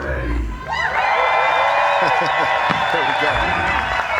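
Beach volleyball crowd in Hamburg at the men's final erupting into loud, sustained cheering, whoops and clapping that swell after a brief opening, with a commentator's voice briefly over it.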